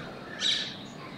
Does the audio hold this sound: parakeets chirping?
yes